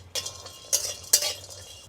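A spatula scrapes and clinks against a dry metal wok in three quick bursts, close and fairly loud, with a faint hiss between strokes, as green chillies, garlic and whole black peppercorns are stirred.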